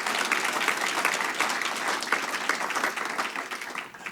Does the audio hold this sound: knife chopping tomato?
no